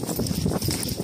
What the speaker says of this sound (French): Mais gardez des distances entre chaque cheval.